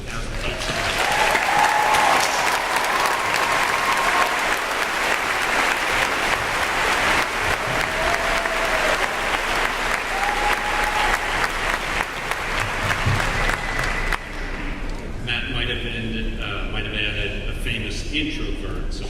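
Audience at a class of 2018 graduation ceremony applauds in a loud, sustained round of dense clapping, with a few voices over it, before the applause thins out near the end.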